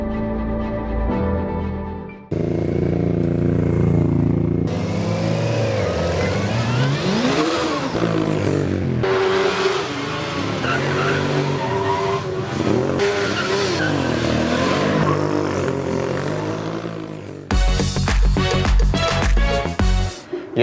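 A student-built race car with a 240 kg engine roars and revs hard, pitch sweeping up and down through repeated accelerations, with tire squeals and skidding and a sharp, loud burst near the end.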